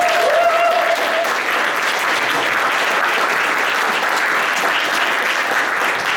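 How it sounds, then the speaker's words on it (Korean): A seated audience at a Korean book-reading event claps steadily and loudly, a dense, even wash of applause that carries through the whole stretch without a break. "박수 한번 크게 부탁드립니다"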